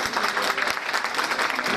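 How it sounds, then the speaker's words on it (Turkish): Applause from a studio audience on a Turkish television evening show for a head of state, a steady, fairly close wash of many hands clapping with no pause. "Devlet başkanımızı bir alkışlayalım."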